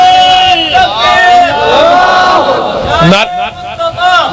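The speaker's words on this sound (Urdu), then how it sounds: "نعرے چھوڑے، میں نعرے کا مخالف نہیں ہوں" A crowd at a religious sermon raises a loud, wavering collective chant of slogans, voices overlapping in a sustained roar that rises and falls for several seconds.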